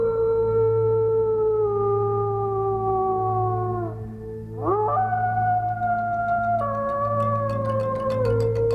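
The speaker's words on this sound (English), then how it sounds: "It's the mournful cry of the wolf." A single wolf gives a long, clear, mournful howl that slowly falls in pitch, breaks briefly, then rises again and holds, loud and alone.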